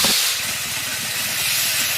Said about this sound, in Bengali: আলুটো নুন হলুদ দিয়ে ভাজা করবে।